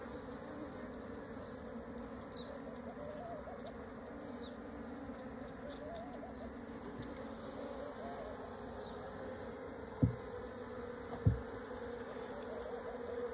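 Honeybees buzz around a hive and a queen cage in a continuous, dense drone at close range, with two short knocks near the end.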